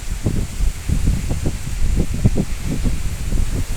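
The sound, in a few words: strong wind blowing through trees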